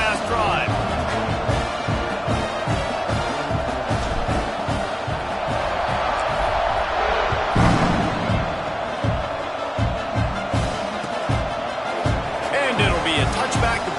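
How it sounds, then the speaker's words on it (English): A college football video game, Oklahoma Sooners versus SMU Mustangs, fills the stadium with steady, loud crowd roar and cheering after a touchdown drive, dense and continuous throughout, with an announcer speaking over it. "this crowd is feeling themselves after that last drive"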